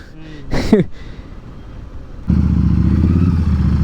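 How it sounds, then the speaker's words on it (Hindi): A Harley-Davidson Street 750 with a Vance & Hines exhaust rides a rough road in northeast Assam. After a brief squeaky clatter, the engine cuts in loud and close as a deep, steady rumble. "ऐसे रास्तों पे हार्ले चलाऊंगा तो इंजन गरम क्या फट जाएगा।"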